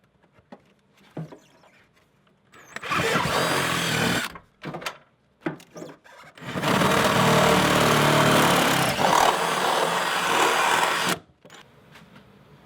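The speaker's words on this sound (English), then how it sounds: "I'm just kind of wiggle the drill bit up and down and side to side a little bit" A power drill whines in two long bursts as it bores holes through the firewall of a van, separated by brief pauses with small clicks and handling noises.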